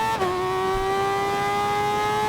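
A sports motorcycle engine screams at a steady high pitch near its 16,500 RPM peak after a brief dip, loud and close, with no voices over it.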